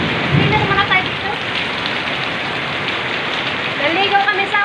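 Heavy rain pours steadily in a dense hiss, with a few faint chirping or voice-like tones rising briefly over it.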